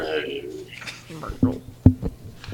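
A person imitates an animal growl, a low rough vocal rumble with a few short bursts, heard close and fairly quiet between other voices, with people talking.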